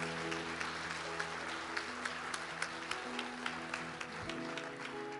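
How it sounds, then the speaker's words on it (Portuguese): A church congregation applauds during a Sunday service, a steady wash of clapping layered over sustained music that keeps playing throughout. "aplauda o Senhor bem forte."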